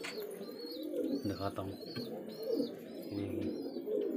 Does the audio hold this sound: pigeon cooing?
yes